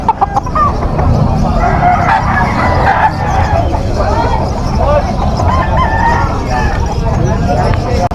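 Young stag rooster, about seven months old, crowing and clucking amid other fowl at a poultry market, loud and continuous under steady crowd chatter.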